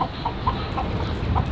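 Chickens cluck softly in short, scattered notes over a steady background noise, a few birds nearby.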